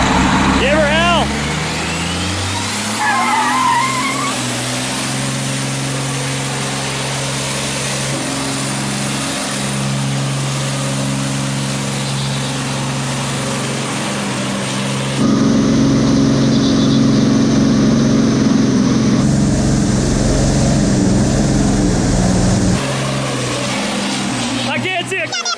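A big truck with a 2,400-horsepower triple-turbo engine roars and revs loudly and steadily at close range, swelling to a harsher peak midway, with people talking over it.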